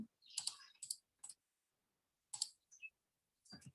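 Keys on a computer keyboard are tapped out in short bursts while a web address is entered, crisp clicks in quick clusters separated by brief pauses, close and clear with no voice.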